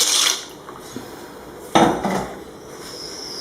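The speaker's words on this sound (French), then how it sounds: "et là on rajoute les pâtes à cuire." Dry pasta tumbles into a pot of salted boiling water, giving a brief rattling clatter of pieces against the metal pot, then a settling hiss; no talking.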